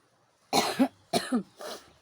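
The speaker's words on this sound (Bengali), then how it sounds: "তো খুব কাশি হচ্ছে ঠান্ডা লেগেছে আমার খুব" Three harsh coughs in close succession, each a short burst with a rough follow-through, heard nearby in an otherwise quiet room.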